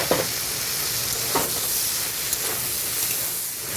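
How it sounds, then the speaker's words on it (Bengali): Fried prawns stirred into a pan of spiced, cooked-down vegetables for a prawn chorchori: a steady loud sizzle and hiss, with a few scraping strokes of a spatula, close up and alone. "এবার ভেজে রাখা চিংড়িটা দিয়ে একটুখানি নাড়িয়ে দিয়েই আমি জল দিয়ে দেবো"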